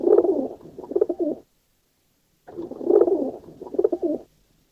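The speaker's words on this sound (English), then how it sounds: "I've got 2 of my pigeons in here." Homing pigeons inside a basket coo in two soft, low, rolling bursts separated by a brief pause, close and muffled.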